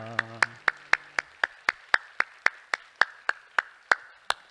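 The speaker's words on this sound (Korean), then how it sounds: "우리 하나님께 영광의 박수합시다." A church congregation claps in unison in praise, sharp, evenly spaced claps at roughly three per second ringing in a reverberant room, with a brief sustained tone or voice at the very start.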